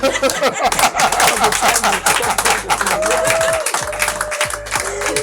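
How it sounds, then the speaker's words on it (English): A crowd applauding steadily at a talent show, with dense clapping throughout, mixed with some voices and a sustained tone in the background. "One more time, a round of applause for Mazi Prosper."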